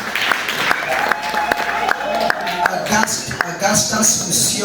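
A small audience claps in quick rhythmic bursts at a graduation ceremony in Kitale, Kenya, applauding a graduate named Ann, with voices and chatter mixed in.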